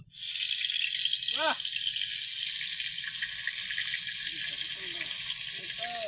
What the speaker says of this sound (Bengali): এখন আমরা এগুলো ভেজে নেব। দিয়ে দিচ্ছি কাঁকরোল।